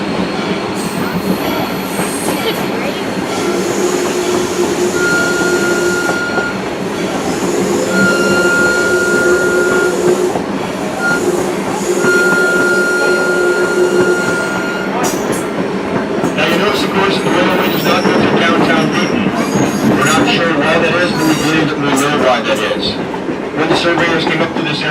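Riding aboard the South Simcoe Railway heritage train on the Beeton track, a steady loud rumble of rolling wheels fills the car, with squealing wheel tones and rhythmic clatter building toward the end, and a voice occasionally heard over it.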